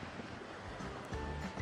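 Ocean waves wash steadily onto the white-sand beach at Tanjung Bira, a continuous broad surf roar mixed with wind noise and no clear speech.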